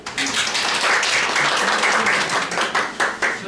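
Applause from a seminar audience greets a presenter at a SmartCon planner training session, a brief, lively burst of clapping that stays steady and then thins out into a few scattered claps.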